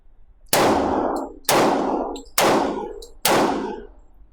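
A Hi Point JXP 10mm pistol fires four sharp, loud shots at a steady pace about a second apart, each followed by a ringing decay.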